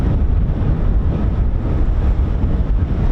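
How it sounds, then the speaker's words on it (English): Strong wind buffets the microphone in a steady, loud, low roar for the whole stretch, heard outdoors at an airfield with no voices. "Woo, it's so windy, man."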